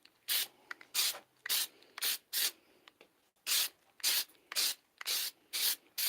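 About a dozen short, hissing bursts of undercoating spray paint hit a clawfoot tub in a quick, irregular rhythm, each a brief close puff separated by near silence.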